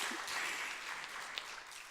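A church congregation applauds, a soft, fairly distant wash of clapping that stays even, with a small tap standing out near the middle.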